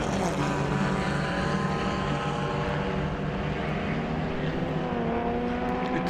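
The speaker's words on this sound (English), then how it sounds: "So Simpson's car certainly appears to be going off at the moment" Racing cars roar around a circuit during a race, a loud sustained engine drone with rising and falling tones as several cars pass close, heard alone without commentary.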